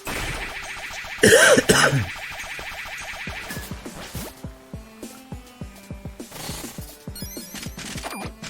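A person coughing hard in one loud, harsh burst near the start, followed by a run of quieter rhythmic thumps and clicks.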